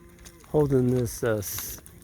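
Cattle in a freezing winter field, being moved ahead of an ice storm, low two close, drawn-out moos, one longer then one shorter, over faint outdoor background.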